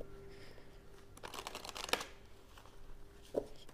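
Tarot cards are shuffled and drawn, quiet papery riffles and slides with a louder burst of flicking in the middle and a short card snap near the end, in a hushed room.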